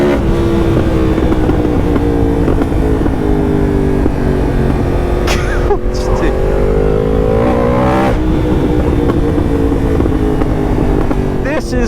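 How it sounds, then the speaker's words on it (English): Yamaha MT-10 gen 2 motorcycle with Akrapovic exhaust, revving loudly and continuously up close, with sharp crackling pops and backfire bangs breaking through the engine drone, especially around the middle and later seconds. "Those pops and bangs are ridiculous. They are so cool."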